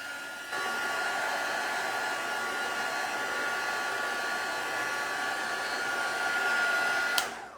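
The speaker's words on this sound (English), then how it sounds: "we'll just use my heat gun for now" A heat gun drying paper blows steadily with a loud, constant whirring hiss that starts abruptly, runs for several seconds, then clicks off.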